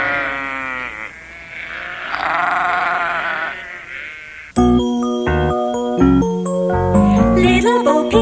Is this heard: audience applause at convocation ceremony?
no